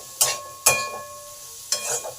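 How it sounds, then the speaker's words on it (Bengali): Chopped onion and half-fried potatoes for an okra-potato fry sizzle softly in a pan, broken by three sharp, close scraping stirs, two in quick succession and one after a pause. "পেঁয়াজটাকে আলুর সাথে একটু ভালো করে কষে নিই।"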